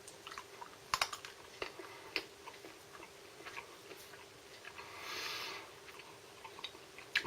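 Plain unroasted almonds, fresh from the shell, being chewed up close, with sharp irregular crunching clicks scattered through the quiet and one softer, longer rustle partway through.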